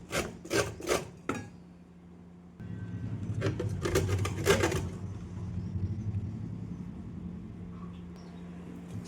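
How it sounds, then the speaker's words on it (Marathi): Drumstick pods have their skin scraped off in short, dry rasping strokes, first several quick separate scrapes and then a longer stretch of steady close rubbing. "शेवग्याची जी साल आहे ती काढून घ्यायची, जेवढी निघेल तेवढी."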